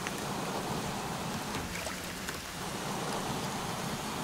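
Heavy rain pours in a thunderstorm in the video game Sons of the Forest, a dense, steady wash of hissing downpour with low rumbling underneath and no speech.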